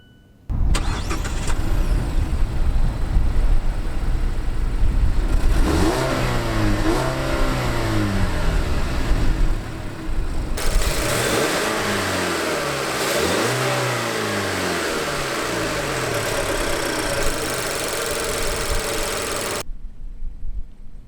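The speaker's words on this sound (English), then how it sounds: "But let's start this engine up first and foremost for you." A 2016 Mazda3 hatchback's Skyactiv 2.5-liter four-cylinder cranks and fires up, then revs repeatedly in rising and falling sweeps before settling to a steady idle, close and loud with no talking.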